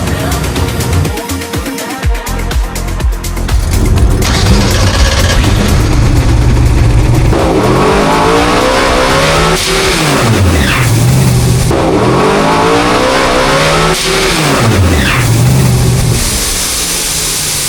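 A 1969 Yenko Pro Mod drag car doing a loud, sustained burnout at a test session, its engine roaring and revving in repeated rising and falling sweeps, with tire and exhaust noise filling the whole clip.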